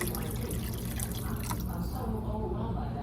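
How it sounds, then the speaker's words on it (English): Water pouring into a soup pot of Catalan-style seafood soup with diced tomatoes, a close, steady splashing and trickling stream that carries on for about three seconds. "let's add water"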